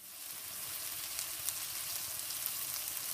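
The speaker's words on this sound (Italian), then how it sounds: "Successivamente sfumiamo con la nostra salsa di soia," Prawns and shallot sizzle in a pan as soy sauce goes in, a steady bright hiss of frying with small crackles and pops throughout, close and fairly soft, with no talking.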